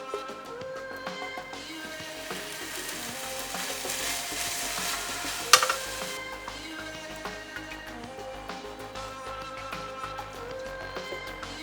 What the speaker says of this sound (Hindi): तो अब उसमें मैं मिल्क डालूंगी।